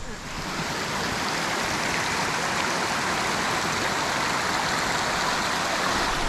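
A river in the Australian bush rushes with a constant, broadband wash of flowing water, steady and fairly close throughout, with no voices.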